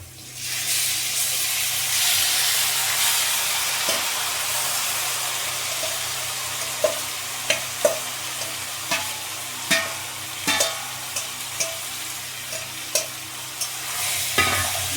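Marinated chicken pieces and fried potatoes stirred in a hot pan, a steady sizzle and hiss with repeated scraping clinks of a spatula against the pan becoming more frequent toward the end.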